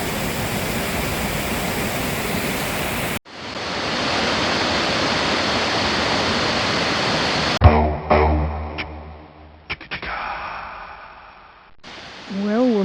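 Hawk Falls pours with a steady broadband rush for several seconds at the end of a hard woodland walk, then gives way to quieter rustling, handling noises and brief voices.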